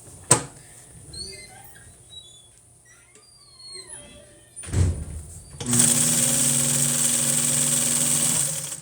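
Upholstery work on a chair: after scattered faint clicks, squeaks and a couple of thumps in a quiet room, a sewing machine starts up and runs in a steady, loud mechanical whir for the last few seconds.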